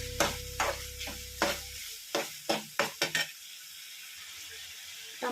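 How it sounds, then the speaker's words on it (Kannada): Tomatoes fry with turmeric and salt for a tomato gojju while a spatula stirs the pan, making about eight quick rhythmic scraping strokes over a faint sizzle, with a low hum at the start. "ಎಲ್ಲ ಒಂದೊಂದು ನಿಮಿಷ ಚೆನ್ನಾಗಿ ಫ್ರೈ ಮಾಡ್ಕೋಬೇಕು."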